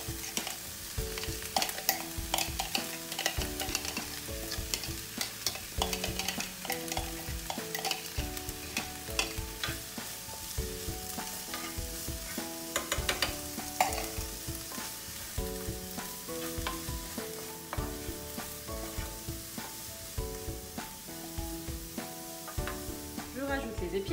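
Peppers, chopped carrot and onions sizzle steadily in a hot pan while being stirred, a continuous crackling hiss that runs throughout with music playing underneath.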